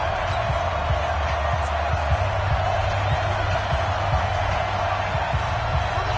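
Stadium crowd in a Madden NFL game before a big third down, a dense, steady roar of noise with faint thuds beneath, loud and sustained throughout.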